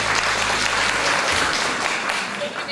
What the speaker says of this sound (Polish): Wielkie brawa, powitajmy.